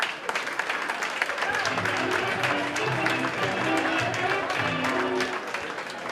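An audience at a fashion show runway applauds steadily and loudly, dense clapping spread across the room, with music and voices mixed underneath.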